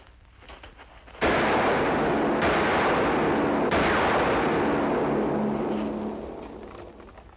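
Sudden loud blast from a gunshot setting off dynamite in a 1956 western, a sharp onset into a long roaring rumble that slowly fades over several seconds.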